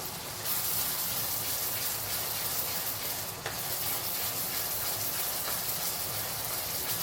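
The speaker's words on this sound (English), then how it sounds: "So let's continue sauteing this for the next 3-4 minutes before I add in the yellow onion" Sambal belacan sautés in a pan with a continuous loud, close sizzle and hiss, steady throughout, with a brief stirring scrape in the middle.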